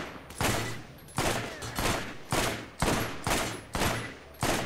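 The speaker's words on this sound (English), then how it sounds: "I will just shoot them slowly." Repeated gunshots from Borderlands, a run of roughly eight loud, sharp bursts spaced about half a second apart, each trailing a brief rumble, with no talking.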